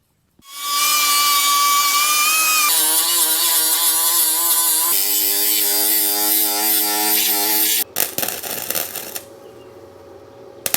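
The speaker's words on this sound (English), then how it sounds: "pretty much got all the grinding done" Angle grinder working a welded steel patch on a KDX 450 motorcycle frame near the silencer mount, a loud steady high whine that shifts pitch as load changes, then cuts off into rattling handling noises.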